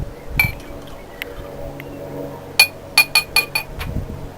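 Glassware clinks as an acid and an alkali are mixed: a few light taps early, then a quick run of five or six bright, close glass chinks near the end, with no talk over them.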